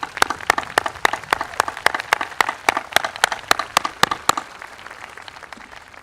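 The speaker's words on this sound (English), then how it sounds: "Let's have a nice round of applause." Applause at a high school graduation ceremony comes as evenly spaced, sharp, close claps in a steady rhythm, about sixteen in a row, that stop after roughly four seconds and leave faint room noise.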